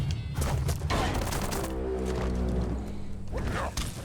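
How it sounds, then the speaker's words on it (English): Automaton firing a gun in the Biomutant video game, a rapid rattling fusillade with thuds and mechanical whirs, loud and close, mixed with other game noise. "I believe that green we saw, that's our automaton firing."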